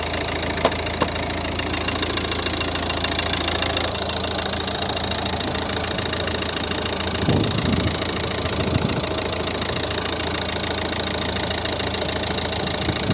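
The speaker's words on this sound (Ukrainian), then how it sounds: "Звук роботи двигуна." A 2012 Volvo V50 1.6 diesel engine idles steadily, a continuous low rumble with a faint ticking rhythm, close by and with no talking.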